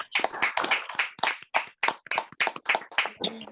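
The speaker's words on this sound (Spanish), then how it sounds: "Abran todos sus micrófonos para proporcionar un gran aplauso a esta magnífica, espléndida conferencia del doctor" Participants in an online lecture by Antonio Lazcano Araujo clap over open microphones, a run of distinct, closely miked hand claps in quick bursts, with a brief noisy rustle at the end.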